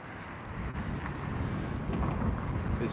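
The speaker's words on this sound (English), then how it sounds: "It's very, very windy today." Strong wind blows outdoors on a very windy day, buffeting the microphone with a steady, loud rumbling roar across the whole span.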